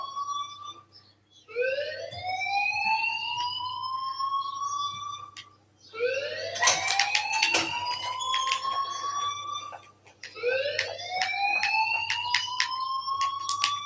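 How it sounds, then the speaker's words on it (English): A fire alarm wails in the Life is Strange video game with rising, siren-like sweeps repeating in three long cycles, loud and steady, broken by sharp clattering hits partway through, with no voices heard. "please turn off that alarm since that's your job"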